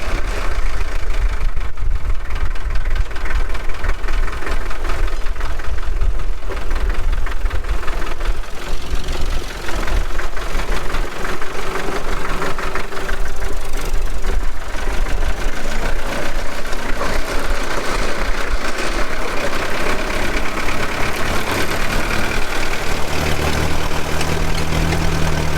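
An old farm tractor engine idles steadily and loudly in the open air of a farm, its low rumble continuous with no one speaking.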